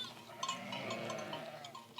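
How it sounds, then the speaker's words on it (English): Sheep and lambs bleating on a path, several overlapping wavering calls close by, some louder than others, with a faint clank like a cowbell among them. "The sheep followed David down the path."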